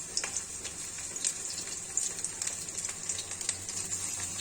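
Mourala fish fritters frying in oil, with a steady quiet sizzle and scattered soft pops and crackles at a close distance.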